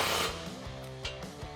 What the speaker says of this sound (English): Grab your 13mm socket and tighten down the other bolt holding in your steps.